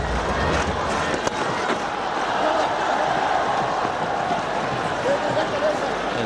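Broad, constant roar of a stadium crowd at a 2008 India versus Pakistan cricket match in Dhaka, distant and unbroken, with a commentator's voice faintly over it.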